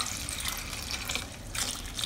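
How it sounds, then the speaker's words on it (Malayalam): Tap water runs steadily into a pot of cucumber moru curry with turmeric and green chilli, a continuous close splashing pour that swells briefly near the end. "ഇനി ആവശ്യത്തിനുള്ള വെള്ളവും ചേർത്ത് നമുക്കിത് വേവിച്ചെടുക്കാം."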